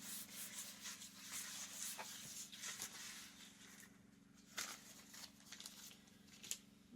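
Butter being rubbed across a baking pan to grease it for homemade dinner biscuits, a soft, close scraping and smearing that comes in short uneven strokes over a steady low hum, with no voices.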